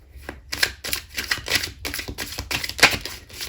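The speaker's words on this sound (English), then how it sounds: "I'm going to keep shuffling, guys, because they're so big, these cards" A deck of large tarot cards is shuffled by hand in quick, uneven bursts of papery riffling and slapping. The sound is close and fairly loud, with no talk over it.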